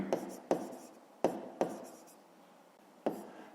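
Pen strokes on paper during a Ukrainian fifth-grade maths exercise, five quick scratchy taps spaced unevenly, close and quiet.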